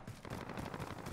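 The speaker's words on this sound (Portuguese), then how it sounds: "Tem tiro pra trás, hein, tiro pra trás." Rapid automatic gunfire in the video game Call of Duty: Warzone, a quick burst of dense, crackling shots, fairly faint and heard alone.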